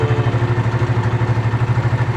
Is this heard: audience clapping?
no